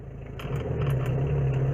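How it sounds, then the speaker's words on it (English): Tata Indigo CS car engine starts up and settles into a steady idle, a low, even mechanical hum with a few light clicks and clatters at the start, heard close by with no talking. "Let's start the vehicle right now, and it rose to life."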